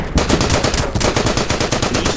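Rapid machine-gun fire rattles against a bunker in the wartime strategy game Order of Battle: Blitzkrieg, a loud, dense, continuous stream of shots with no pauses and no talking.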